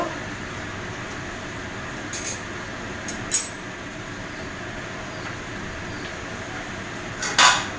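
A lid is set on a cooking pot of thin chicken, potato and papaya curry, giving a few brief metallic clinks and knocks over a steady background hum, with a louder clatter near the end.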